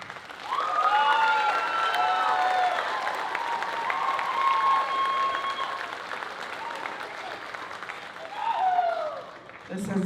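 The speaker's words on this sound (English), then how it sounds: "One more hand of applause," An audience claps and cheers for children at a Samoan dance recital's end-of-year show, broad clapping running under tonal whoops and calls, swelling again near the end.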